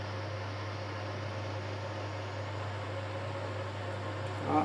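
A washing machine hums steadily with a low motor drone and broadband whir as it begins a spin cycle, constant and moderately loud, with a slight rise at the very end; no talking.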